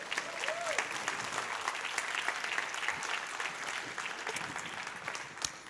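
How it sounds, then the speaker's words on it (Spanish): A church congregation applauds together during a worship service, a sustained wash of clapping that swells and continues steadily, fairly distant and even. "Démosle un aplauso bien fuerte al Señor."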